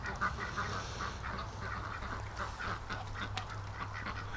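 Ducks and drakes in a breeding pen give scattered nasal quacks and honk-like calls over a low background hum, moderately close and fairly quiet, with no talking.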